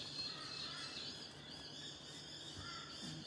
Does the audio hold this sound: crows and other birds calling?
yes